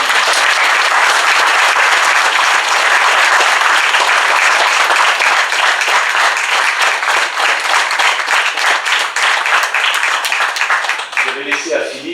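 An audience applauds Philippe Natalini in a French hall during an amateur team presentation, dense steady clapping filling the room for about eleven seconds before thinning out as a voice begins to speak at the end.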